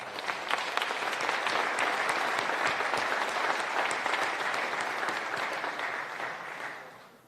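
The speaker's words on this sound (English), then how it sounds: "Round of applause." A crowd at a public event with Texas governor Greg Abbott in El Paso claps in sustained, dense applause that holds steady for several seconds and then fades out.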